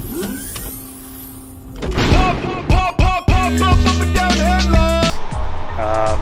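Pop-up headlights on a Nissan 180SX whir up with an electric motor hum, followed by a run of mechanical clicks and clunks as the units lock into place, close and loud, with no talking.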